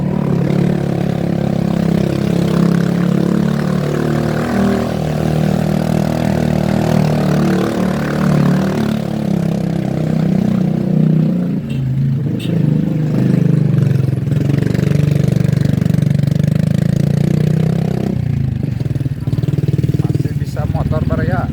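A motorcycle engine drones steadily throughout, with people talking over it.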